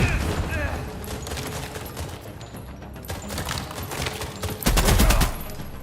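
Gunfire in the game The Expanse: Osiris Reborn: dense, rapid bursts of automatic fire and shots crackle continuously, with a louder volley near the end, while voices talk over the combat.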